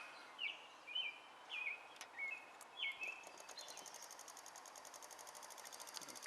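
A small homemade electric motor built from microwave parts runs on a 1.5 volt battery, giving a faint, steady rapid whirring buzz that settles into an even pulsing rhythm, with a few brief squeaky chirps early on.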